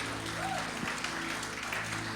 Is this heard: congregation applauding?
yes